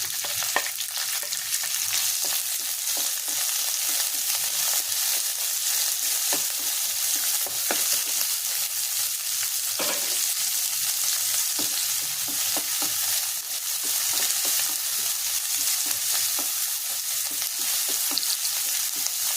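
Flour frying in a pan for an egg and chicken curry, a steady dense sizzle running throughout with scattered light scraping and stirring clicks, close and unbroken, no voices.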